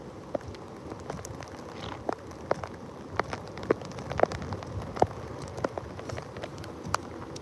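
Steady rain from Hurricane Helene falling outdoors near the eyewall, a dense even patter with scattered sharper drops and crackles, moderately loud and continuous with no voices.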